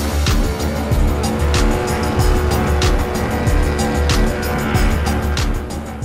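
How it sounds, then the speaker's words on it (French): A Lancia Stratos rally car taking hairpin bends sideways on a rally stage, its engine roaring loudly and continuously with bursts of tyre squeal as it slides through the turns; no one speaks. "j'ai commencé à prendre les virages, les épingles en travers, etc., pour faire un peu le show."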